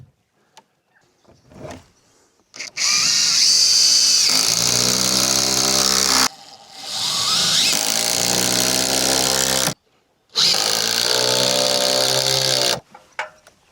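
Screws driven through timber cladding into a frame with a power driver in three long, loud bursts separated by short pauses, each whirring steadily with a rising strain as the screw bites. There is no talking.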